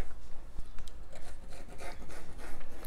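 Beignet dough is cut into shapes with a knife or cutter, giving soft, close scraping and rubbing strokes repeated in an uneven rhythm, with a low background hum and no voices.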